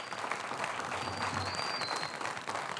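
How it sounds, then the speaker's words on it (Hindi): A studio audience at a PSL cricket show claps steadily, a dense even patter of many hands running without pause, with a faint whistle-like tone drifting above it. "आप लोग भी हमारे साथ में तालियां बजाकर बताएं"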